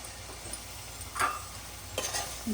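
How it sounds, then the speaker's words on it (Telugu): Palak fish curry being stirred in a pan after coriander is added, with soft scraping stir strokes and a couple of brief clinks over a faint, steady simmer. "ఇప్పుడు కొత్తిమీర వేసుకుని మనం ఒకసారి అలా కలిపేసుకుని"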